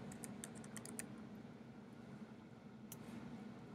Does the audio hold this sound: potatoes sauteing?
no